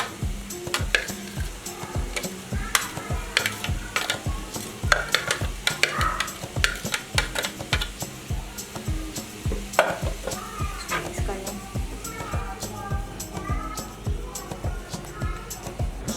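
Steady sizzling and crackling of minced beef frying with chopped onion, garlic and green chilli in a karahi over low flame, with frequent scraping and stirring clatter throughout.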